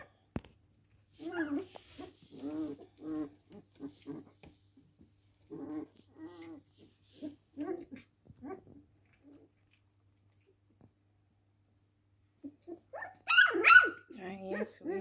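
Dogs give short whimpers and yelps in scattered bursts, some close and some fainter, with a louder cluster near the end and quiet gaps between them.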